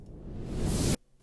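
A reverse impact sound effect for a song production, a noise swell that builds in loudness and brightness and then cuts off abruptly, leaving near silence.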